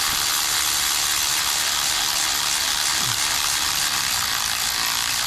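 A low-torque ratchet snugging a bolt on the engine of a 2006 Toyota Camry Solara during a head gasket replacement, a steady dense clicking close by with no talk.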